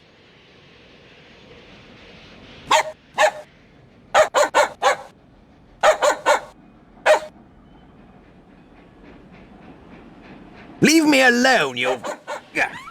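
Poppy, a small dog in the 2000 PC adventure game Monet: The Mystery of the Orangery, barks in sharp repeated bursts, in pairs and clusters, followed by a person speaking.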